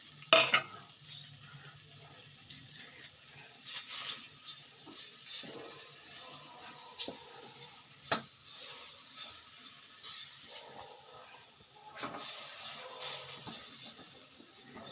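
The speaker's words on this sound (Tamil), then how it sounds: "இன்னும் ஸ்லோ ஃபயரில் வச்சு வதக்கிறேன்" Sweet gujiya filling sautéed in a pan over a low flame, a soft continuous sizzle broken by several scraping strokes of a spoon against the pan.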